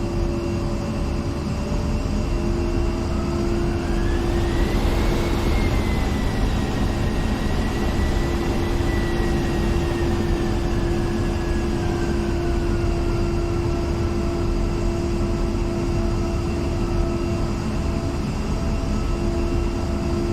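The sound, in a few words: A-10C Warthog jet taxiing in video game DCS World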